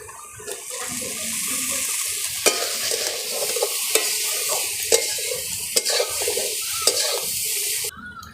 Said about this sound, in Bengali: আলুর সঙ্গে সিদ্ধ করা ডুমুরগুলো ভালো করে একসঙ্গে ভেজে নিলাম।